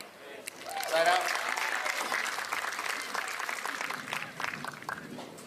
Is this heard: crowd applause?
yes